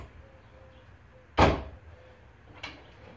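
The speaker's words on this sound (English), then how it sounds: "this door comes up." A door on an overland trailer is swung up open, giving one loud, sharp close-up clunk followed by a fainter second knock a moment later, with quiet room hum in between.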